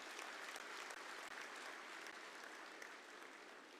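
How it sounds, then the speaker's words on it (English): Audience applause at the Make In Odisha Conclave 2022 plenary session in Bhubaneswar, a steady dense clapping from a large crowd sustained evenly throughout with no voices standing out. "Let's give him a big applause,"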